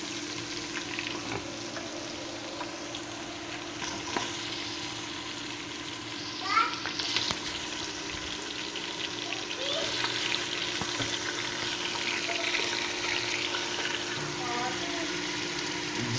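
Beef sizzles and fries steadily in a pan for qurma, with occasional stirring scrapes and faint background voices.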